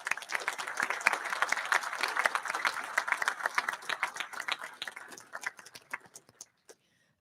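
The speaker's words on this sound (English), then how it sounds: "Could you join me in giving your family and loved ones a round of applause?" Audience applause at a Boston Fire Department recruit graduation ceremony, a dense burst of clapping from a large crowd that gradually thins out to a few scattered claps before stopping.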